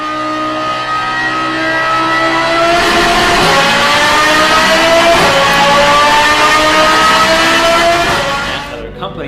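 Lamborghini Huracan STO 5.2-liter odd-firing V10 with Valvetronic Designs exhaust revving loud and close, the pitch climbing in sustained sweeps with brief dips before cutting off at the end.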